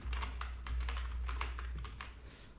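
Computer keyboard typing while entering HTML and CSS code, a steady run of quick, light key clicks with a few brief pauses, close to the mic over a low background hum.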